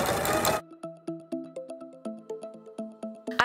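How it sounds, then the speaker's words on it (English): A sewing machine stitches the bodice of a fabric doll in a series of short, evenly spaced bursts, each whirring pulse fading before the next, quiet and close with no talking. "I started by sewing the bodice front to the bodice back at shoulders."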